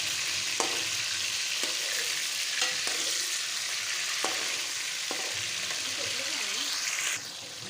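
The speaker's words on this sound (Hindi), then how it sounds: "चिकन को हम गरम मसाले के साथ फ्राई करेंगे" Mixed chicken pieces frying with garam masala for a white karahi, a loud, continuous close sizzle broken by several distinct spoon scrapes and taps against the pan, with no voices.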